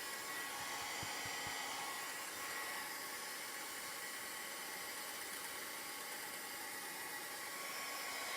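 Hair dryer blowing continuously and loudly to dry chalk paste ink on a craft project, a steady broadband roar with no breaks and no talking.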